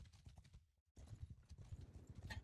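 Horse hooves gallop in the video game Mount and Blade 2 Bannerlord, a quiet rapid clip-clop of mounted cavalry that briefly drops out to near silence before resuming at a steady drumming pace.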